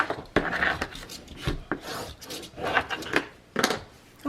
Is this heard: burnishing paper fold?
yes